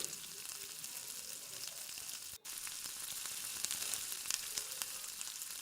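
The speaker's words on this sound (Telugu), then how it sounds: "మళ్ళీ మూత పెట్టేసి కొద్దిసేపు అలానే మగ్గనివ్వాలి" Vegetables for aloo kurma cooking under a lid in a pan give off a steady, soft sizzle and hiss throughout, with a brief dip midway and no talking.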